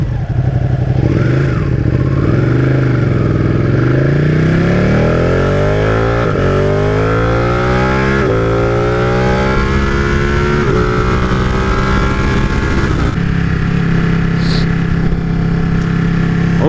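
A Ducati 959 Panigale's engine is revved hard and close, pitch sweeping up and down through repeated climbs and drops while the bike rides through its gears.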